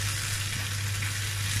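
Vegetables sauté in a pan with an even, close frying hiss that holds steady from start to finish over a low constant hum.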